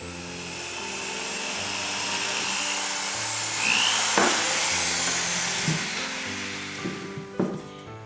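A drill whines steadily at high pitch, its tone rising and shifting as it bites into a glued wooden peg in a chair, with a few knocks near the end.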